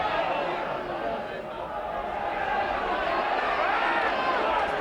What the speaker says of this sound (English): We can sense the atmosphere here, the crowd getting on their toes already